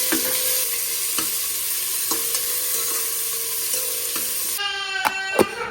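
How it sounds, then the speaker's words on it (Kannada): Onions frying with chilli powder and kasuri methi in a hot pan give a steady, close sizzle, with a few sharp scrapes and clinks of stirring near the end. "ಒಂದು ಸ್ವಲ್ಪ ಕಸ್ತೂರಿ ಮೇಥಿ ಟೇಸ್ಟ್ ಚೆನ್ನಾಗಿರುತ್ತೆ ಅಂತ ಹಾಕಿ ಫ್ರೈ ಮಾಡ್ಕೊಡೋಣ"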